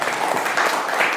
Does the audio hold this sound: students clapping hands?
yes